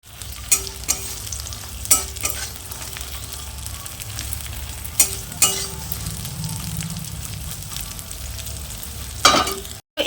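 A steady sizzle of spiny gourd frying in a pan, near and fairly quiet, broken by several sharp clinks and scrapes of a utensil stirring.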